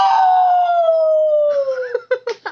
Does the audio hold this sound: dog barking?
yes